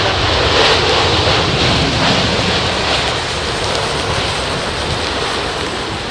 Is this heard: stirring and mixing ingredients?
no